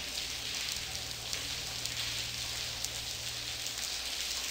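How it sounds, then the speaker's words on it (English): Heavy rain pours in the Blackwell Convergence video game as a dense, steady hiss that continues without a break, with a faint low hum underneath and no voices. "It's pouring cats and dogs out here."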